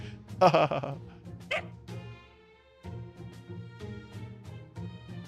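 A dog in the video game Fate Grand Order barks and yips in short bursts, then whimpers and whines in a string of pitched cries over soft background music.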